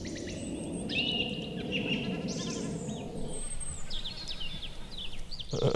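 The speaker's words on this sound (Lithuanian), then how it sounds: "Aš manau, kad čia kažkoks paukštis." Outdoors by a river, a bird gives a series of thin, high chirping and whistling calls over a steady rushing background. The calls come and go in short phrases of moderate loudness.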